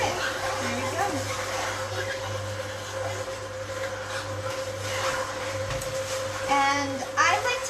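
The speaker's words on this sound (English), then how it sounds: "So you want to love your juice machine for sure." Fresh celery pushed through an electric juicer, a steady motor drone with a faint whine running throughout, loud and close, with brief soft voice-like sounds near the start and end.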